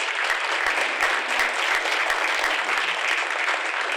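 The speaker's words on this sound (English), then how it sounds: "Give them a round of applause." Continuous audience applause at an awards induction and recognition event thanks the sponsors, a dense, even roar of many hands clapping throughout.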